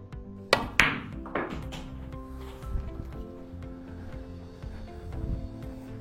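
A snooker cue strikes a ball sharply, followed by a second crisp knock as balls collide and the red is potted, then a low rolling rumble and quiet room tone with no talking.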